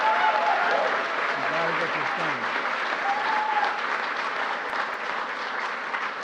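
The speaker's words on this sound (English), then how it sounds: "You can clap for that, please." Audience applause fills a crowd setting at a St. Patrick's Day event on U.S.–Ireland relations, steady and loud throughout, with someone speaking briefly over the clapping.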